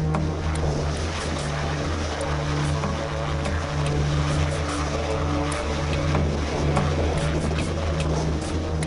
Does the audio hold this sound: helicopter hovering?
yes